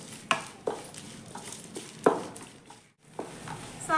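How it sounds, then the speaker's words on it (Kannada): Dry coconut being fried and stirred in a pan for khara pongal, heard as a string of sharp scraping and clinking strokes of a spoon against metal over a faint, soft sizzle, close by with no talking. "ಕೊಬ್ಬರಿ ಸ್ವಲ್ಪ ಘಮ ಬರೋ ತನಕ ಫ್ರೈ ಮಾಡ್ಕೋಬೇಕು"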